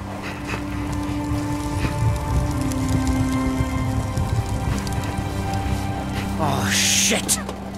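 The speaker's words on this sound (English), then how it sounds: "Hail's too strong. I can't get through." Hail pelting down in the video game The Fidelio Incident, a steady dense patter across the whole stretch, with a voice speaking over it and a brief rising swoosh near the end.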